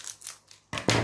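Scissors snip a small cut, a few faint crisp snips followed by two louder close cuts, set amid diamond painting canvas preparation.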